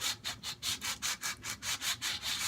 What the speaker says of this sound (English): I'll just lay this on my lap and I'll work on sanding. I'll do a little bit of a circular motion.